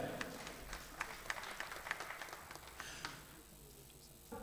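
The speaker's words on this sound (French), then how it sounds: "Est-ce qu'on peut encore applaudir pour lui s'il vous plaît?" Scattered audience applause for a contestant at a televised singing competition, uneven claps at moderate distance under faint crowd noise and murmuring, thinning out toward the end.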